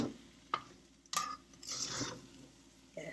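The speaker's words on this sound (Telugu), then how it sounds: "నేను కలుపునా? కలుపుతాను." Uppudu pindi being stirred in a cooking pot, with soft scraping and wet squishing strokes at close range, broken by a few sharper clinks against the pot's side.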